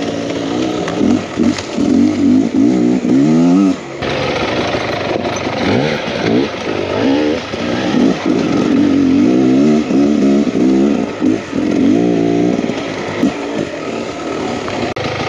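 A 2023 Beta X Trainer 300 enduro motorcycle revs hard while riding a trail at the Hope nickel mine, its two-stroke engine buzzing loud and close with repeated throttle surges and brief drops.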